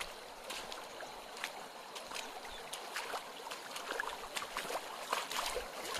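Water flows steadily around a small island in a forest in Rajaji National Park at dusk, a continuous soft rushing and trickling with scattered brighter splashes, fairly even and close, with no voices.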